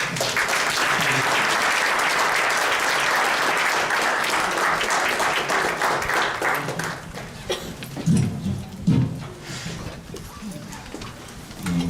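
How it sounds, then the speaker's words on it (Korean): A church congregation applauds loudly to welcome the pastor, a dense wash of clapping that fades over several seconds into scattered claps and a few low voices. "우리 목사님 나오실 때 큰 박수로"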